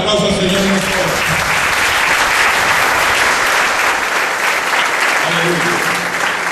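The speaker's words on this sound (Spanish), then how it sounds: "Denle un aplauso al Señor en nuestro corazón" A church congregation applauding together, a dense, loud, continuous wash of clapping filling the room, with voices faintly audible underneath.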